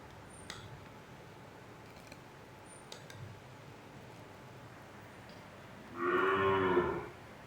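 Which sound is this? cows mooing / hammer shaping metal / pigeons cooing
cows mooing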